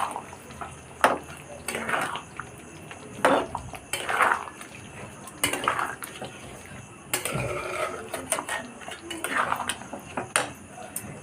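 Utensil scraping and clanking against a cooking pot while chicken maharani is stirred, irregular metallic knocks and scrapes spread across the stretch with a faint sizzling background, no talk.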